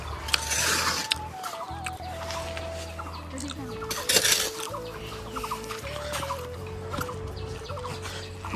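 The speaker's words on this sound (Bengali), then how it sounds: "এটা হচ্ছে মামার মুরগির ফার্ম" Chickens cluck at an uncle's poultry farm, their calls scattered through the clip under steady background noise, with a person's voice occasionally heard nearby.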